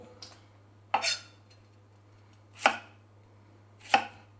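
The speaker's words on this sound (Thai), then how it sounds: "พยายามหั่นให้มันเป็นชิ้น เท่าๆกัน" Three crisp knife chops through eggplant on a cutting board, spaced about a second apart, close and clear against a quiet background with a low steady hum.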